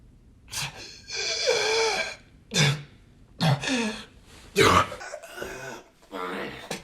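A man coughs and clears his throat repeatedly in harsh, spaced bursts with gasping breaths between, close and fairly loud.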